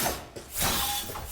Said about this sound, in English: It's the sound of metal hitting metal.